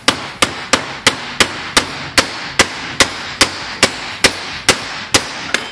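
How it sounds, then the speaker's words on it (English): A hammer taps a socket to seat a cork engine seal during a Wisconsin engine rebuild, striking fourteen sharp, evenly spaced metallic blows close up with no talking. "And then you're going to take a hammer"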